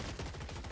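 Robots trading fire in the video game Gladiabots, a short burst of rapid, rattling automatic shots heard faintly and continuously.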